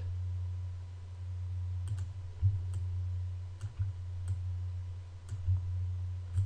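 A computer mouse clicking while drawing in GIMP, sharp isolated clicks spaced irregularly every second or so over a constant low electrical hum, close and fairly faint.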